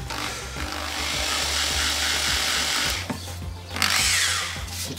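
A drill boring holes into a DIY rack, a steady close whirring grind that runs continuously with a brief dip and then a louder surge near the end, no speech.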